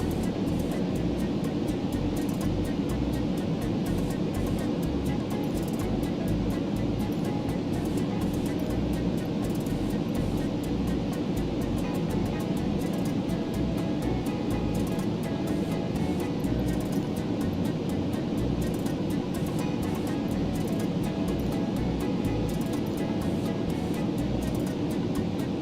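A Concorde jet in Microsoft Flight Simulator 2020 climbs with a steady, unbroken roar of engine and wind noise at constant level throughout.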